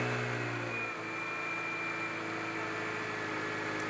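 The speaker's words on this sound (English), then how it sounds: "Allow the vehicle to idle for 15 to 20 minutes and reach operating temperature slowly." Subaru WRX STI engine idling after a turbo install, a steady low hum with a faint whine, close and even, and a brief dip in tone early on.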